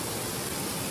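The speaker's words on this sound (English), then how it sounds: "So here's our simulated rainfall" A steady, close wash of simulated rain pouring onto the gravel of a French drain by a house foundation, a broad unbroken hiss with no pauses.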